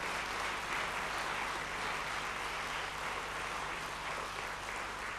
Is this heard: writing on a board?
no